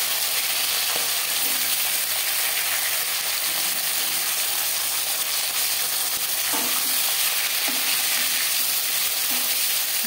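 Live rohu fish pieces fry lightly in a pan, giving a steady, close sizzle with a few sharp pops and clicks from the oil and utensils. No one speaks.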